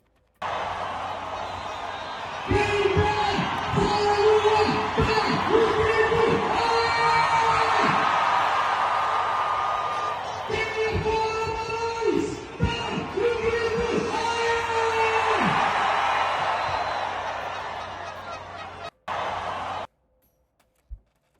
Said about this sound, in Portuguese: Quem quer fora Moraes, dá um grito aí